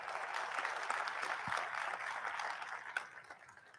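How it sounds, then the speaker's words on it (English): Audience applause at a sports-focused gathering, a steady wash of clapping held at moderate level for several seconds, with a brief sharp thump partway through and no voices over it. "Let's give a round of applause for Luke."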